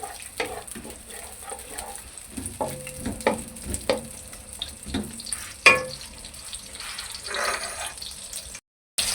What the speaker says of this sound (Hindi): मैंने ये प्याज डाल देना। इसको करेंगे हम फ्राई, और ये आँच तेज कर लेते हैं।